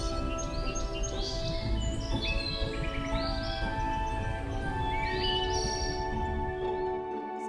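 Small birds chirp and tweet in quick, scattered bursts over a soft, steady background hum, fairly quiet and without talk.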